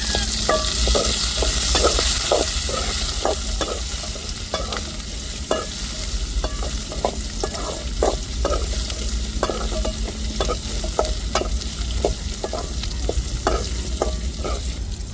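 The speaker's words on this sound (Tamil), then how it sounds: "வெங்காயத்தோடு சேர்த்து நல்லா வதக்கிக்கிடுவோம்" Onions for a garlic kuzhambu sautéing in a pan, a steady sizzle with frequent clicking stirs and scrapes of a spoon, close and fairly loud, without any talk.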